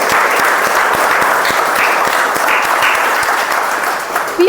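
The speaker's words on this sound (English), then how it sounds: "let's give a round of applause to you all" Audience applause at a speech evaluation workshop meeting, a sustained dense round of clapping from a roomful of attendees, loud and steady for over four seconds, with scattered sharper individual claps standing out.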